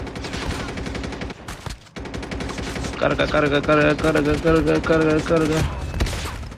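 A shotgun fires repeatedly in an online shooter game as rapid, loud blasts over a busy game soundscape, with a voice speaking Spanish briefly.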